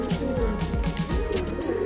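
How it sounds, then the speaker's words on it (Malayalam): Native pigeons in a loft coo in low, throaty, repeated calls, close and continuous, with several birds overlapping. "പിന്നെ നാടൻ പ്രാവ്"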